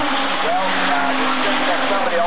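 Race cars roar past on a track, a loud, dense engine howl that stays constant throughout with a faint voice underneath.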